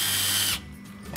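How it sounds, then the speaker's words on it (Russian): A cordless screwdriver whirs close up for about half a second as it twists tie wire, then stops, followed by a quiet pause and a small click. "Как удобно завязать проволочку. Во, смотрите, шуруповертом."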